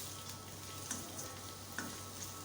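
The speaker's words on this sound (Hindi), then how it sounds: "इसको अच्छी तरह से गोल्डन ब्राउन करें" Onion browning in hot oil for tarka rice, a soft continuous sizzle with a few faint crackles and pops, fairly quiet and steady.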